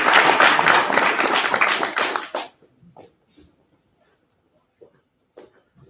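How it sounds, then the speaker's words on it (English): Audience applause for cadets at an awards ceremony, a dense burst of many hands clapping that cuts off abruptly after about two seconds, leaving near silence with faint stray sounds. "Round of applause for these cadets."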